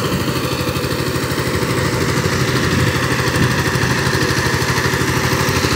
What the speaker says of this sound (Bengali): এখানে পাওয়ার টিলার দিয়ে কালো জমি চাষ করতেছে